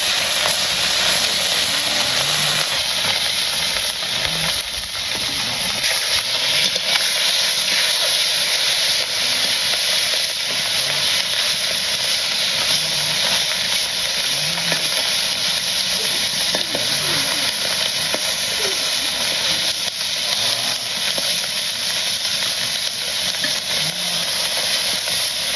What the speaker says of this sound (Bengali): আমার মাছটি ভাজা হয়ে গেছে নামিয়ে নিই